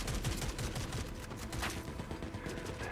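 Rapid video game gunfire, a dense rattle of overlapping shots like a fusillade, steady and continuous but fairly quiet throughout, with no talk.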